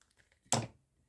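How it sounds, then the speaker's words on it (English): Scissors snip through a baby wipe in one short, crisp cut, close up and alone in an otherwise quiet moment. "let's just go in with scissors"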